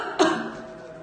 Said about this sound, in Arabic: تعمد الطبيب تصوير سعال المريضة حتى يتم تمييز سعال المريض المصاب بفيروس كورونا عن السعال العادي